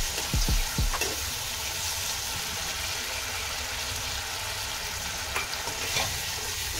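Tomatoes and spices fry in a pan with a steady close sizzle, broken by a few scraping stirs near the start and again later.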